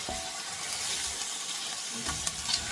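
Chicken pieces fry in hot ghee for a Lucknowi dum biryani, giving a steady, fairly soft sizzle with a few stirring knocks near the end.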